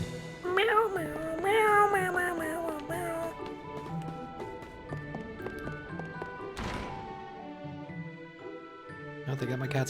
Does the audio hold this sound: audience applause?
no